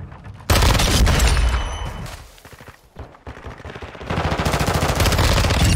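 Rapid bursts of automatic gunfire from a VEL 46 submachine gun in Call of Duty Modern Warfare 2, loud and close, with a brief lull before the sustained firing resumes.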